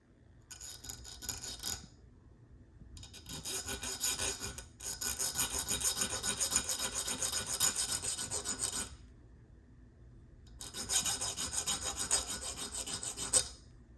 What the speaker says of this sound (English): so we're going to file them down just a little bit.